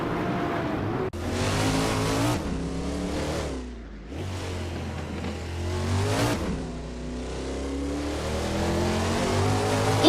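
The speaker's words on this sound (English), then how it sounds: "Gina Jones and Defactor are fighting for 14th place" Race cars roar around a circuit, engines revving and shifting through corners as they battle for position, with tyre squeal, continuous loud overlapping engine notes, and a brief dip in the middle.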